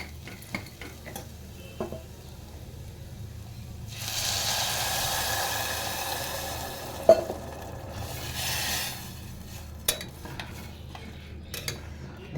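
Water poured into a hot tempering in a pressure cooker for sandge amti sets off a loud, rushing sizzle lasting several seconds, framed by quieter stirring and sharp clinks of a metal spoon against the cooker.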